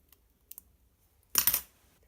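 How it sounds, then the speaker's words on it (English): Scissors snipping a heart shape from a sheet of paper, a short close burst of crisp cutting and rustling after a few faint taps, with no talk. "I'm going to cut a heart off of here"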